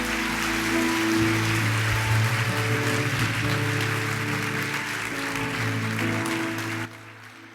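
A church congregation applauds in a dense, steady wash of clapping that fills the room for about seven seconds, then stops abruptly.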